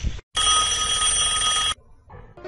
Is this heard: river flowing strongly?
no